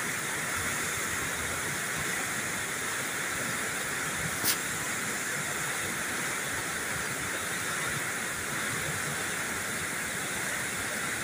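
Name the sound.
flood water rushing fast through open barrage gates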